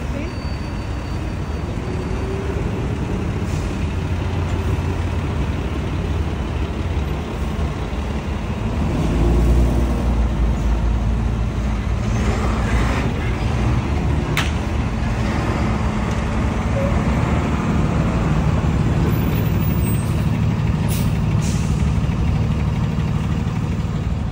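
Street traffic at an early-morning accident scene in Brooklyn, New York: a continuous engine and road rumble that swells as a truck passes midway, then stays steady, with people talking over it.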